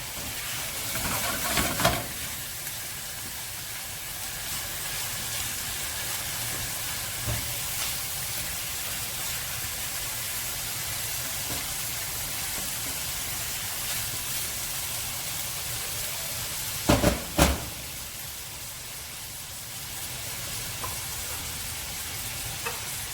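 Pork dropping into a hot pan with onions, chilli and shrimp paste for Bicol Express brings a steady frying sizzle that hisses on throughout, with a couple of brief louder clatters near the start and again late on.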